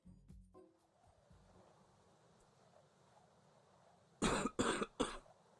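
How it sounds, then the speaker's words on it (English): After a quiet stretch of faint background hiss, three quick coughs ring out close by in a short burst near the end. "Excuse me, sorry about the coughing."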